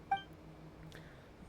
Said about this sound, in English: Bobik makes a beep like boom noise.